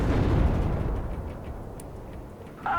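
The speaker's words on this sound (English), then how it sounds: "Got a artillery strike going in on this building here" An artillery strike in the WARNO strategy video game lands on a building: a loud low rumbling blast at the start fades out over a couple of seconds, followed by a brief sharper noise at the end.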